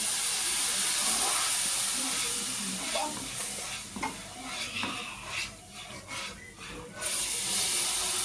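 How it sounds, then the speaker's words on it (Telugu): Hot boiling oil is poured into a Mysore pak mixture of gram flour and sugar with cardamom powder, giving a loud continuous sizzle and hiss as it is stirred, with scraping pulses toward the end. "ఇప్పుడు మరుగుతున్న ఆయిల్ ఇందులో కొంచెం వేసుకొని కలుపుకోండి."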